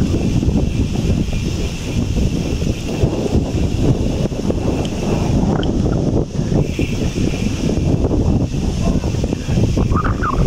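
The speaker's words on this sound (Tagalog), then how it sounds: "Malakas ang hangin dito." Strong wind buffets the microphone with continuous loud rumbling and gusty roar, steady throughout with no clear voices.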